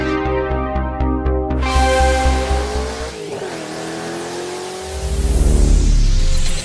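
A 1970 Chevrolet Camaro RS-SS V8 muscle car roars as it drives, with loud, close engine revving through gear changes, a brief drop, then a deep rumbling climb as it accelerates again.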